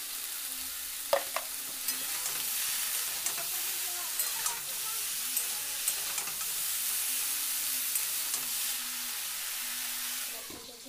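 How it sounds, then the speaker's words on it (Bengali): Fish sizzles in a hot pan, a steady frying hiss with occasional spatters and stirring clicks, close and continuous throughout. "আর এদিকে মাছ ভাজা করছি"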